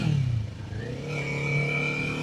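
A motorcycle with a new aftermarket exhaust revs up with a deep, throaty exhaust note, rising and holding pitch, close by and loud.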